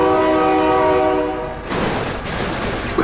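A train in BeamNG.drive sounds a long, loud horn with steady harmonic tones, then the horn cuts off into a broad rushing roar of the train passing close by.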